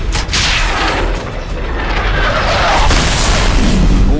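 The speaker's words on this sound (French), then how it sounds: "Réduction d'altitude, cible à 5 secondes. Bombe larguée." A loud, rumbling bomb blast in Call of Duty Modern Warfare 3 rolls on for several seconds in dense, noisy booms, with no talk over it.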